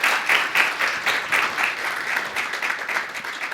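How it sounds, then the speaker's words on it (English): Audience applause at an International Women's Day breakfast welcomes a speaker to the stage, a steady, even clapping from a moderate crowd with no talk. "May we please give her a round of applause."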